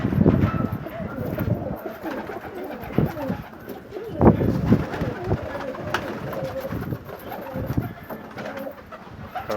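Syrian pigeons coo in low, throaty, repeated phrases close by, overlapping one another in a steady loft chorus while someone talks over them at times.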